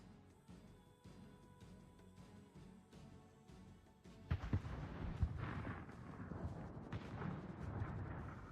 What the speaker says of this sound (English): Salem trying to depth charge the other Salem